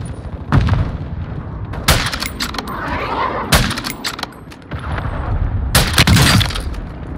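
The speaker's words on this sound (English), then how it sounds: "Hostile cruise missile incoming." Cruise missile strikes in the video game Call of Duty Modern Warfare: several heavy, close booming explosions land at irregular intervals, each a sharp blast followed by rumbling debris and crackle.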